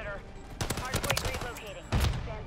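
Rapid M13B rifle fire in Modern Warfare 3, with a short burst of shots followed after a brief gap by a sharper report, over game ambience.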